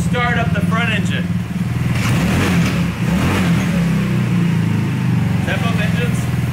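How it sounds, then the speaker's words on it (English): The front engine of a double-engine go-kart starts up and runs alongside the already running rear engine, a loud, close, continuous buzzing drone that surges in revs before settling. "Let's go ahead and start up the front engine."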